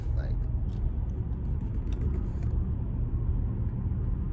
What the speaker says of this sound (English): Look at this traffic.